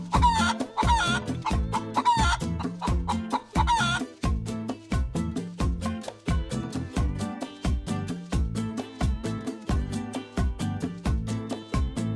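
Chickens at a farmhouse cluck repeatedly in quick, rhythmic bursts close by, with a rooster's louder calls standing out early on.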